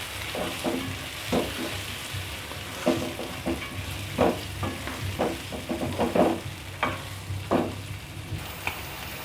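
Chicken sizzles and crackles steadily in a hot pan with garlic, ginger and garam masala, with intermittent scraping and stirring clatters of a utensil against the metal.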